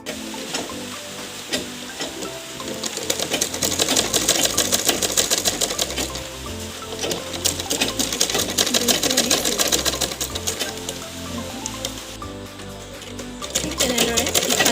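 A sewing machine stitches an elastic strap onto a fabric face mask in a rapid, loud, steady run of needle clatter, easing briefly before speeding up again, with no talk.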